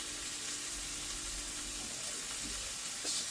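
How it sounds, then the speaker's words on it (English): Mushrooms and onion frying in a pan with brandy, giving a steady, fairly faint sizzle with a low background hum and a brief brighter hiss near the end. "I put brandy in because what that does, it helps to brown the mushrooms up"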